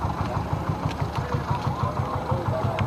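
A 1974 Scania L50.48 truck with a 96 kW diesel engine idles nearby in a steady, even, low chugging rhythm, alone and moderately loud.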